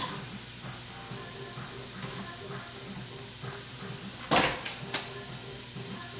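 Chopped celery and onions cooking in a pan for corn chowder, with a soft continuous sizzle and hiss, a few faint stirring scrapes, and one sharp clatter of a utensil against the pan near the end.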